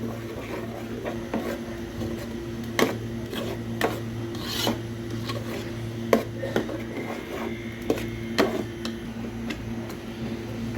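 A spoon scrapes and rubs against a pan while ground amaranth greens are mixed in, making repeated rasping strokes and light taps over a steady low hum, with no voices.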